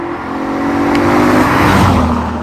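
A Lotus fitted with a swapped-in Lexus V8 producing 336 horsepower and revving to 7,000 RPM accelerates hard, its loud, steady engine note rising and swelling over a couple of seconds with no talk.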